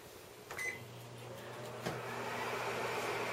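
A Bistro microwave oven set to 500 W heats cheesecake batter: a couple of button clicks, then a steady low electrical hum with a fan-like whir that carries on evenly and close by.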